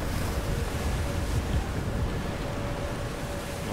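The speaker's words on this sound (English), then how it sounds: "I can barely move because it keeps stopping me, that wind." Strong, roaring wind fills the Singapore mission of Battlefield 4 on PC, a dense, constant rush of gusting air close and loud throughout, with no voices over it.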